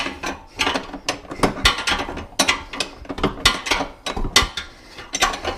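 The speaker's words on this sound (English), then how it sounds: "get a 32 spanner into that bolt and inside and slacken it off" A 32 spanner slackens a wheel bolt on a Suzuki Boulevard M109R motorcycle, giving repeated ratcheting metallic clicks in an irregular rhythm, close and fairly loud.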